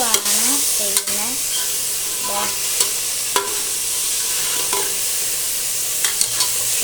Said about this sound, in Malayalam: ഇനി ഞാൻ ഒരു കയ്യിൽ ഫോണും ഒരു കയ്യിൽ ഇളക്കുവാണ് ചെയ്യുന്നത്